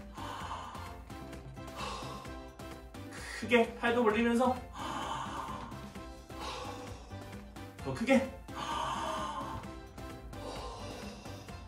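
Toddlers at a church worship service do a deep-breathing exercise, with two loud group breath bursts rising over an adult leader who talks throughout against background music.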